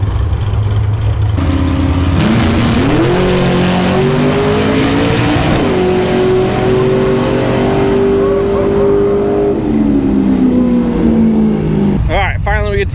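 A Dodge Magnum launches at a drag strip, its engine roaring loud and close as revs climb through gear changes, the pitch rising then holding high before tailing off, with a brief tire chirp and people talking over the noise.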